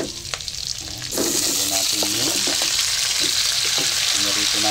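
Onions hit a hot pan for estopado and burst into a loud, steady sizzle, with clinks of a spatula stirring through the crackle.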